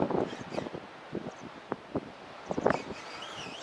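Northwesterly to northerly wind blowing across open water at a fishing spot, steady gusting rush with microphone buffeting and a few sharper bumps, close and moderately loud, no speech.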